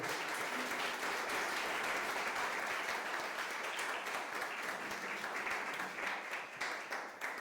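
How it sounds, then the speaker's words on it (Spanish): Applause from a church congregation during a service, a steady dense wash of clapping that carries on for several seconds with no break. "Dale ese aplauso al Rey, por favor."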